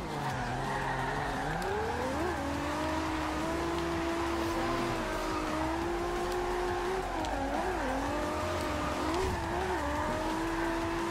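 Audi RS2 Avant drifting in the Forza Horizon 2 video game: a continuous engine drone with wavering revs and sustained tire squeal, loud and steady throughout, with no talking.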